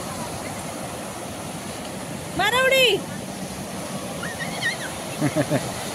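Steady wash of surf rolling in on Devbagh beach throughout, with a voice and a brief higher whistle-like call cutting through midway.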